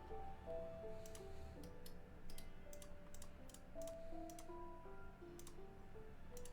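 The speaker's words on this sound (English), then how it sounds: "you'll hear my loud-ass mouse clicks" Computer mouse clicks from a player in Minecraft: a scattered series of sharp, close clicks in irregular bursts over soft background game music, with no talking.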